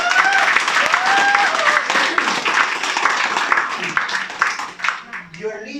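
An audience at an elite leadership training session claps, a dense burst of many hands applauding that thins into scattered claps, with voices calling out over it.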